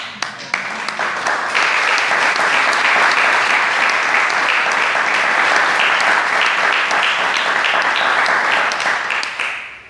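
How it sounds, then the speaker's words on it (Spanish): A church congregation breaks into applause, a few scattered claps swelling quickly into loud, sustained clapping that carries on for about ten seconds before dropping away at the very end. "Yo creo que el Señor se merece un aplauso."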